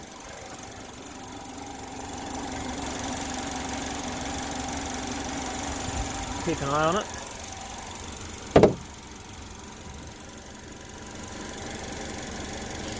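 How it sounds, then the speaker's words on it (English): A Chevy HHR engine idles steadily while warming up after coolant, exhaust leak and thermostat repairs, a constant low hum with a couple of brief sharp clicks partway through and a short spoken remark. "I'm just going to let it heat up by itself at idle."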